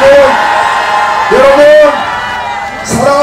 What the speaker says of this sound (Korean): 다시 한번 뜨거운 함성 부탁드립니다.